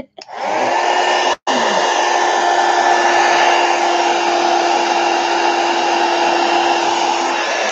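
A hair dryer blows over wet craft paint: a brief start, a split-second cutout, then a loud steady whine and rush of air that continues unbroken, with no voices.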